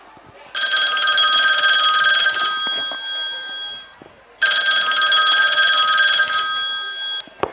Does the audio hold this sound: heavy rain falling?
no